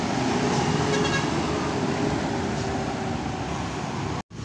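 City buses and traffic roll past on a busy road, a steady loud wash of engine and tire noise with a horn toot near the start, continuous and close, cutting out briefly near the end.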